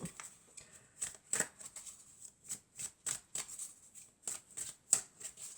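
Tarot cards shuffled and drawn from a deck during a reading, a quick run of crisp papery flicks and soft slaps in irregular bursts, close and fairly quiet, with no talking.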